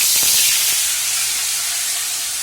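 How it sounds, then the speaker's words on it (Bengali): Tengra fish rubbed with salt and turmeric fry in hot oil, giving a loud, steady, close sizzle with a strong hiss that softens slightly as it continues. "আর এখানে দেখো তেল গরমও হয়ে গেছে, জানি না কিভাবে ফুটবে"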